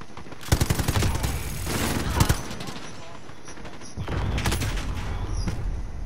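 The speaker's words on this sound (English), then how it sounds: "my sentry gun's going nuts" A sentry gun in Call of Duty: Modern Warfare fires rapid bursts, a loud rattling string of shots followed by more sporadic cracks and a second sustained volley. Surrounding battle noise fills the gaps.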